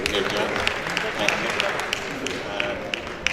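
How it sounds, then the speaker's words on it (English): Audience applause at a Miss India Worldwide and Mrs India Worldwide pageant in New Jersey, a steady wash of clapping with sharper individual claps standing out, heard in a large hall. "First of all, a round of applause for Aryan and Anuradha."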